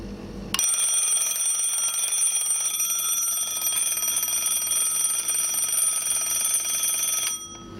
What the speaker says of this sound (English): Kill the alarm clock.